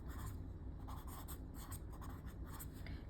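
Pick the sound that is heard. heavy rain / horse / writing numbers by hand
writing numbers by hand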